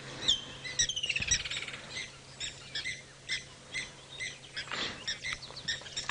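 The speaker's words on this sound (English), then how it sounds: "we can hear some birds alarm calling." Birds give sharp, repeated alarm chirps and squawks in the South African bush at sunrise, close to middle distance, in irregular bursts with no talking.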